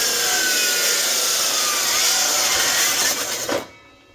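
A saw cutting steadily through wood, a loud continuous rasping that runs for several seconds before stopping abruptly as the cut ends.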